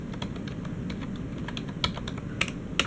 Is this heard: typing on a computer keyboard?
yes